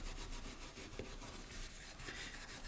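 Steel wool rubbed back and forth over painted wood to distress the finish, a steady close-up scratchy scrubbing that runs continuously without pause.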